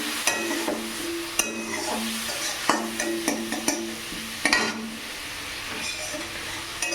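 A spoon scraping and clinking against a pan in an irregular rhythm while cumin seeds sizzle steadily underneath, close and clear.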